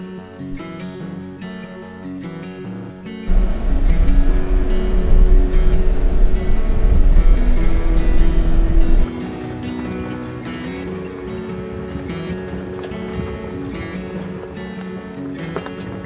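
Overland vehicles crawl slowly over a rough, rocky trail on a remote backcountry route, a steady engine drone with a heavy low rumble that swells loud for several seconds before easing back to a quieter, continuous hum.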